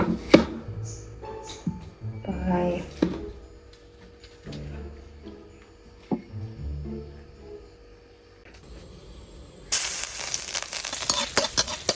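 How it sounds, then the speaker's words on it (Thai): Knife chopping Vietnamese rice paper sheets into strips on a board for a stir-fried soy sauce noodle dish, with several crisp, irregular taps and cuts close by, followed by a louder hissing, crackling stretch at the end. "ตัดก่อนตัดให้มันเป็นเส้นๆก่อนนะ"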